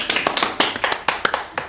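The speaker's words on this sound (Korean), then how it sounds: "박수!" Applause from a small church congregation at a Wednesday service: a short burst of quick, uneven claps from a few people, close and fairly loud.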